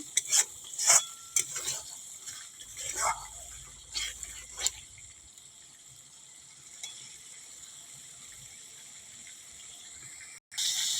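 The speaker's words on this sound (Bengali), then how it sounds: "দেখো মশলা থেকে জল, দেখো তেল ছাড়ছে, দেখো উপর থেকে, মানে মশলাটা ভাজা হয়েছে" A spatula scrapes and clanks against a pan as spice paste for phasa fish curry is stirred and fried in oil. Several sharp metallic knocks come in the first seconds, then only a faint, steady sizzle continues.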